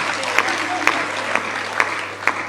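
An audience at a Hindi stand-up comedy show claps in a dense, steady wash of applause that is loud and sustained, with a few sharper claps standing out.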